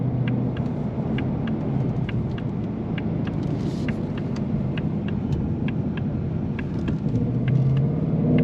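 A 2026 Ford Mustang Dark Horse in sport mode gives a steady, deep engine rumble from inside the cabin, with a faint rhythmic ticking running over it and no talking.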